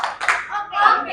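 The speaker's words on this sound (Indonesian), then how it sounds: "Sambil ditepuk ya" A few quick hand claps in a short burst, close and fairly loud, mixed with a voice.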